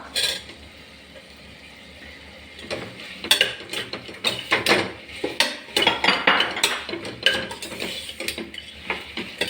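Carrots are added to a cooking pot for vegetable pulao and stirred, giving close, irregular clatters and scraping bursts of a spoon against the pot that grow busier after a quiet start.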